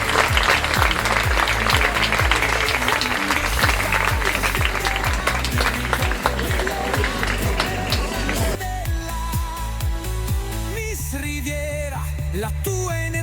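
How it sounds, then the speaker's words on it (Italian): A dense, steady wash of crowd applause fills the first two-thirds at the Miss Riviera del Brenta 2025 beauty pageant final in Campagna Lupia, mixed with loud rhythmic music that carries on alone as the clapping fades. "Davide Dalla Pria e Narciso Laurenti, a cui farei un grandissimo applauso"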